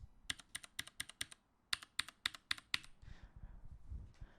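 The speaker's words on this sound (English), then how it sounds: "I wanted a less noisy keyboard because this fucker is noisy." Fast bursts of clacky keystrokes on a noisy mechanical keyboard, close and crisp, in two quick runs with a short pause between, then fading into quiet room rustle.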